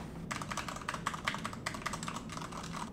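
Fast typing on a tactile computer keyboard, a rapid stream of soft clicks and clacks, fairly quiet and close, with no talking.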